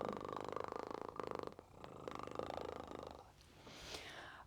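A person imitates a cat's purr up close and quietly, a rhythmic rumbling buzz of rapid fluttering pulses that loosens into breathier snoring sounds toward the end.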